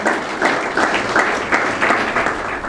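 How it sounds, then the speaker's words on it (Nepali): A crowd applauding to welcome a speaker at a church television program celebration, dense steady clapping with faint rhythmic swells, fairly loud and filling the whole moment. "उहाँलाई पनि ताली बजाएर स्वागत गर्नुहोस्"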